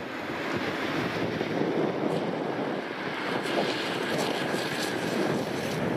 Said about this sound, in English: Wait for this, uh, this DC-6 to move into position.